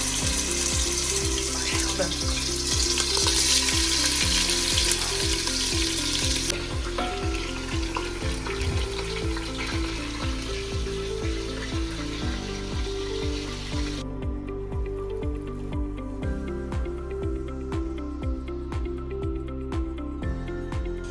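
Four pounds of ground beef for homemade chili fry in a pan with a dense, continuous sizzle, joined by regular stirring and scraping strokes and a stretch of running water, with no speech.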